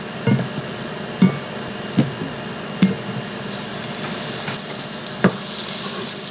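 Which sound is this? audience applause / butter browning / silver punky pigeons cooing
butter browning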